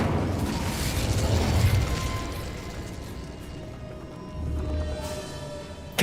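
Confringo blasting spell in Hogwarts Legacy, a booming explosion with a rumbling tail in the first half, then quieter game ambience and a second, softer burst near the end.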